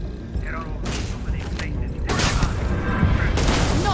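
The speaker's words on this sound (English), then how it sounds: "They're shooting me with a EM weapon" EM weapon gunfire in the game Starfield, heard as bursts of crackling, mechanical shots and booms that come in clustered volleys and grow louder and denser in the second half.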